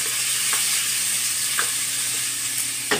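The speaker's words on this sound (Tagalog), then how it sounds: "Gisa mo lang ng gisa." Chopped tomato sautéing in a pan for pork mechado, a loud continuous sizzle with a few soft stirring scrapes, close up and without talking.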